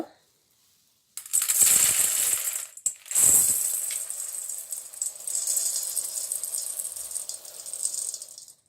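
Fried boondi and nuts poured into a large vessel, a dry rattling cascade in two close bursts, the second trailing off into a long, softer shuffling rustle.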